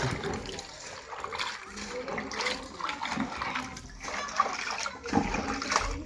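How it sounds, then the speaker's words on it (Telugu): Water is poured over leaves being washed by hand for a tribal curry, a steady splashing and trickling stream running throughout at close range, with occasional louder splashes. "ఇదైతే నీళ్లు పోసి బాగా కడగదాం అన్నమాట"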